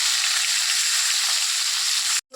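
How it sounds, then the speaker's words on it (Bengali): Fish lightly frying in a pan gives a loud, steady sizzle of hot oil that runs unbroken for about two seconds and then cuts off abruptly. "মাছগুলো আমার হালকা হালকা ভাজা হয়ে গেছে"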